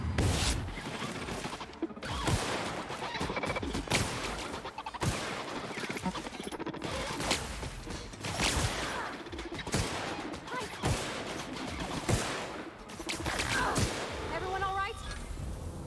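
Rapid automatic rifle fire from a sci-fi shooter game, dense bursts of shots crackling and booming continuously over busy game sounds, with a voice talking throughout.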